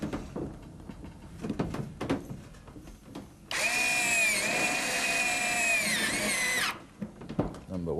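Power drill driving Tek head screws into a retrofit fixing, a steady high whine lasting about three seconds after quieter handling noises and faint background voices.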